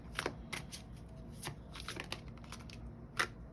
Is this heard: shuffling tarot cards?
yes